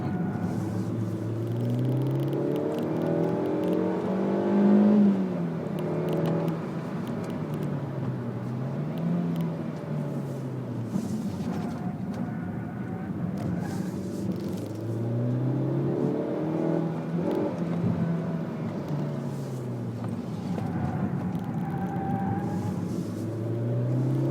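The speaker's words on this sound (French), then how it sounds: "c'était un petit essai dynamique de la Suzuki Swift Sport" A Suzuki Swift Sport on a dynamic test drive revs up repeatedly, its engine note rising and falling through several gear changes in a close, continuous cabin recording.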